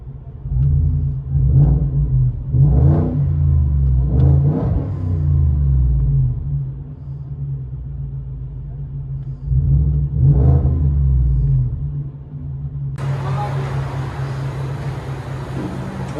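Inside the cab of a 2020 Ford F-150 with a 5.0 liter Coyote V8, the resonator kept, everything else deleted and a side-pipe dual-tip exhaust: several loud rumbling revs over a steady idle, with a hissy noise entering near the end.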